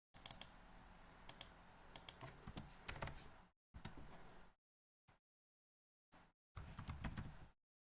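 Code being typed on a computer keyboard during a Spring Boot REST API coding session: close, quiet bursts of rapid key clicks with a few sharper strikes, separated by short pauses and silent gaps.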